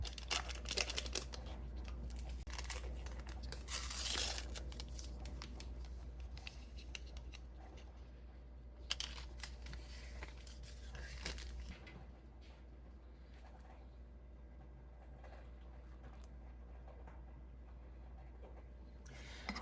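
Packets of unflavored gelatin torn open and powder poured into a bowl, faint crinkly paper rustles and soft pouring scratches over a low background hum, quiet and close.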